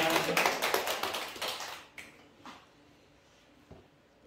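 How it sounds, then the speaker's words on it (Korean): A church congregation claps for the parents on Parents' Sunday: dense, lively applause for about two seconds, then quickly thins to a few scattered claps and quiet room sound. "위대하신 우리 어머니 아버지를 위해서도 박수 올려드리십시다."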